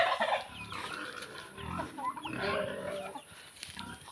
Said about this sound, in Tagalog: May mga manok din ako dito mga kabalgaan.